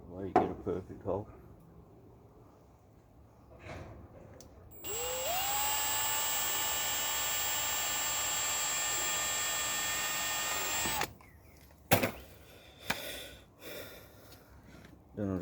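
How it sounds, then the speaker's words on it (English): An electric drill pre-drills a hole for a directional sprinkler head on a Dunbier boat trailer, a steady high whine lasting about six seconds, preceded and followed by clicks and handling knocks, close and moderately loud. "I'll just pre-drill"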